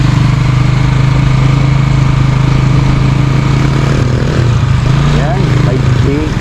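A motorcycle engine runs steadily as the bike rides through flood water on a submerged road in San Matias, Santo Tomas, a continuous loud close drone with the faint wash of water beneath it.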